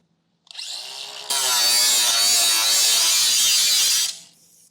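Spray paint hisses onto raw metal under a 2024 Jeep Grand Cherokee during a base plate install, a short burst followed by a long, loud, steady spray close by, then a quick fade.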